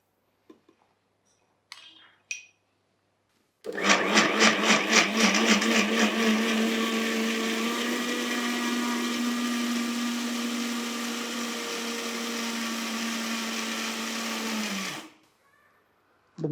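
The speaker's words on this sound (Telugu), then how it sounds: "శుద్ధి చేసి పౌడర్ మిక్సీ కొట్టుకున్నారు" Kitchen mixer grinder pulverizing home remedy ingredients, including dried grapes, into fine powder whirs at a loud steady pitch for about eleven seconds, starting with a few sputtering bursts and then cutting off abruptly, with faint clicks before.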